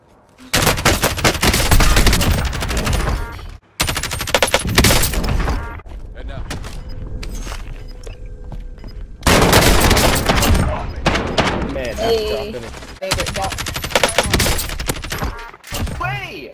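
Rapid bursts of gunfire from a weapon in the video game Overwatch, loud and dense, sounding in several clustered volleys broken by short gaps, with a player's voice audible over the action.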